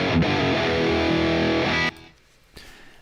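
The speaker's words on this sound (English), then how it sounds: "That's basically just some distortion circuits and a bunch of filtering." An Airwindows audio plugin's distortion effect produces a loud, dense, gritty tone with a buzzy harmonic wash that cuts off abruptly partway through, leaving faint low residue and a brief click.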